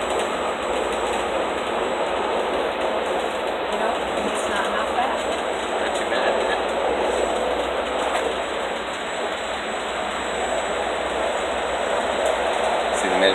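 Interior of a train travelling from Rome to Civitavecchia: a steady rumble and broadband hiss of the moving carriage with a constant high whine, running evenly throughout.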